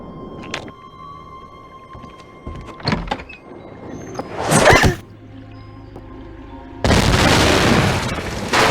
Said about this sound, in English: whoever threw that ice ball at me must have set off an explosion that shattered the ice